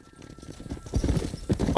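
Horse hooves clip-clop in Red Dead Redemption, a quick rhythmic run of close thuds growing louder as the gait picks up, alone without talk.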